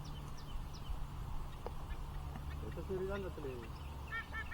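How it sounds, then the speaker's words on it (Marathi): A bird calls near a riverside fishing spot, giving a few short, clear, repeated notes in the latter half over steady low outdoor rumble and background noise, with faint voices nearby. "तो ह्या गोप्रोत दिसत पण नाही हा पक्षी"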